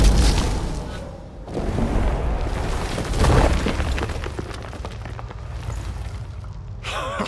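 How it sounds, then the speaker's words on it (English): Stalagmites being smashed in The Witcher 3 video game, heard as heavy rumbling booms and crumbling bursts, loudest at the start and again midway, followed by a lingering rocky rumble. "The stalagmites! Destroy them!"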